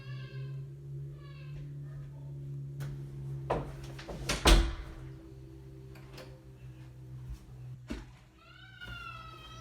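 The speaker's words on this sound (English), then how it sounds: "do not try to open the door" Indoors, a door is tried and rattled in several sharp knocks and clatters, with one louder bang in the middle. Faint cat-like cries come at the start and the end.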